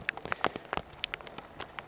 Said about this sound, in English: the rain is falling heavier now